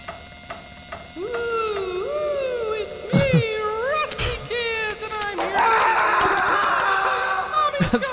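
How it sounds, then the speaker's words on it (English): A stock scream sound effect from the video game Tesla Effect: drawn-out, wavering wails that rise and fall in pitch over several seconds and grow louder and rougher toward the end, mixed with other game noises. "Stock scream sound effect."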